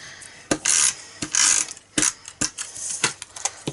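Snail adhesive tape runner rolling glue onto a handmade birthday card, a series of sharp clicks and short ratcheting rolls, close and fairly loud, with no voices.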